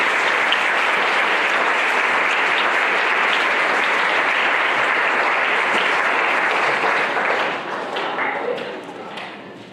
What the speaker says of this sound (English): Quick round of applause for these teams.